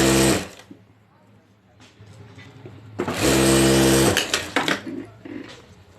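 A sewing machine stitches a zip onto a handmade hand bag in loud, buzzing bursts separated by pauses, while someone speaks between the runs.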